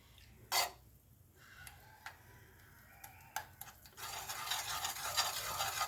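A spoonful of ghee heats in a cleaned pan before jaggery goes in for syrup, with faint sizzling, a few light clicks and scrapes, and a brighter, steadier sizzle building toward the end.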